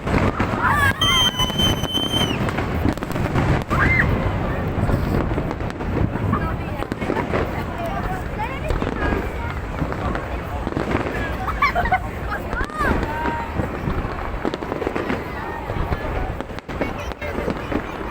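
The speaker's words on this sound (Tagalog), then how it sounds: "Ganda ng fireworks." A fireworks display at a National Day 2023 celebration rumbles and crackles without pause, with a crowd's voices mixed into the dense, loud din.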